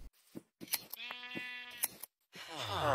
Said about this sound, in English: Time for breeding sheep and shearing them.